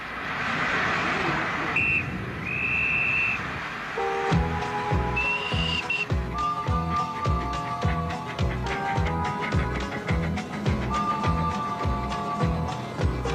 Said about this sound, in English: Little train, blow your whistle